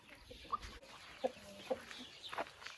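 Chickens in a backyard pen give a few soft, separate clucks at a distance, spaced out over low background noise.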